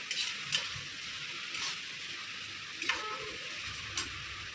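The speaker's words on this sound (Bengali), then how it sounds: "নেড়ে চেড়ে একটু কষে নিচ্ছি" Ash gourd shukto fries with spices in a pan while being stirred, a steady close sizzle broken by periodic scraping strokes of the spoon, about four distinct stirs.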